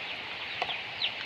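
Farmyard chickens clucking softly in the distance, a couple of short, faint calls over a steady hiss of background noise, with no voices.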